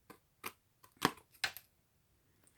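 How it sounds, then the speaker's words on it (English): Scissors snip through card paper while a Christmas card is trimmed, giving four or five crisp, separate cuts at an uneven pace, close and clear in a quiet room. "I'm going to try to line my scissors up."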